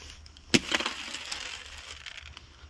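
Thin ice on a woodland trail in Canton, Maine cracks with one sharp, close snap, followed by a brittle run of smaller crackles and splintering that fade out.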